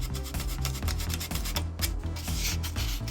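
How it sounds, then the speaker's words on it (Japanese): A sponge file rubs the edges of a Tamiya 1/12 Fairlady Z 240ZG plastic model kit, producing close, rhythmic scratchy strokes over a low background hum, with no speech. "こういうね、スポンジヤスリとかで、 このエッジの部分をね、ちょっと磨いてあげた方がいいですね"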